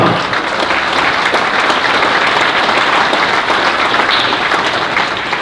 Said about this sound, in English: Give a round of applause for Mama.